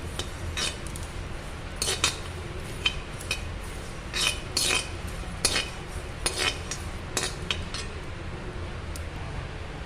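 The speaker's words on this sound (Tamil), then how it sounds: "இதை நல்லா வறுத்துக்கணும் ட்ரையாக வறுத்துக்கணும் எண்ணெய் ஊற்றாமல்" Sesame seeds dry roasting in a pan with no oil while being stirred, giving steady faint crackling and scraping with clustered metallic clinks of a spoon against the pan throughout.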